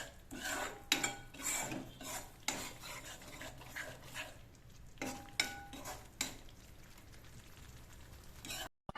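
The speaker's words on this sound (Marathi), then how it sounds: "आणि हे परतून घेऊया। छान 2 मिनिटं तेल सुटेपर्यंत परतून घ्यायचं." A spice mixture with black masala sautés in a pan in a home kitchen, heard as quiet frying under repeated spoon scrapes and clinks against the metal as it is stirred.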